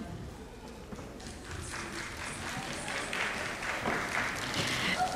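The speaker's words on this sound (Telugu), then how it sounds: "లేట్గా అయినా చప్పట్లు కొట్టినందుకు థ్యాంక్స్ అండి" An audience at a sponsors' felicitation during a dance drama event applauds, a dense wash of many hands clapping that builds steadily and grows louder toward the end, with a faint voice beneath.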